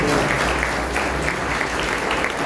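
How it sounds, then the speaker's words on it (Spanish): Loud applause from a church congregation fills the space steadily, a dense wash of hand claps with no break throughout. "Un fuerte aplauso a Él."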